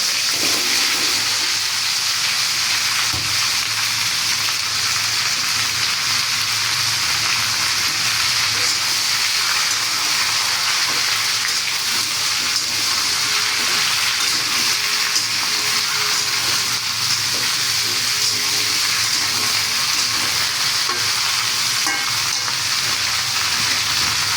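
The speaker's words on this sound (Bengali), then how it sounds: "এখানে আছে পাঁচমিশালি সবজি, সব কিছু দিয়া দিলাম তেলের মধ্যে।" Mixed vegetables tipped into hot oil for a vegetarian curry fry with a loud, steady, close-up sizzle and hiss that carries on without a break and with no talking.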